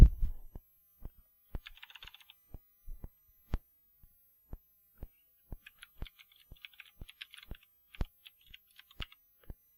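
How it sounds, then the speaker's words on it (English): An email address being typed on a computer keyboard: sparse, separate key taps at an uneven pace, close and fairly quiet, with a few soft clicks and short bursts of faster tapping toward the end. "I'm going to type in a person's email"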